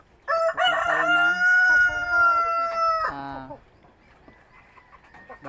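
A Rhode Island Red rooster crows once nearby, loud and drawn out, followed by quiet background rustling.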